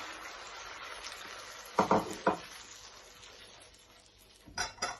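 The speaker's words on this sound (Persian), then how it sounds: "حالا من بهش یه لیوان آب جوش اضافه میکنم" A glass of boiling water poured into a hot frying pan of sautéed leeks sets off a sharp hissing sizzle in a few quick bursts, with a soft steady simmer between them.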